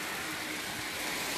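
Steady heavy rain on a stormy day, a continuous close wash of falling drops that stays level throughout, with no talking.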